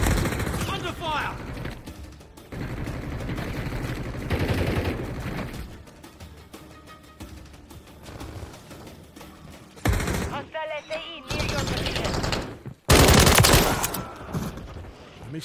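Gunfire in Call of Duty Modern Warfare multiplayer: dense, loud bursts of automatic and single shots with mechanical clatter, continuing through the clip and peaking in sharp blasts near the end.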